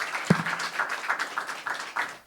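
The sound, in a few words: audience applause welcoming a speaker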